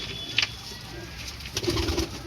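A pigeon of a fancy racing breed coos nearby in a few soft, low, throaty phrases, with a faint background hum and light ambient noise.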